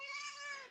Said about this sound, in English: Sorry, that's my cat, and she's making her debut on the podcast.